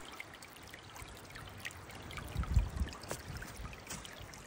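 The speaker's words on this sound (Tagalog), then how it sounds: "Ang sarap din pakinggan ng dumadaloy na tubig." Clear spring water flowing out of the ground in Alaska, a soft steady trickle and burble close by, with a slightly louder splashing surge partway through.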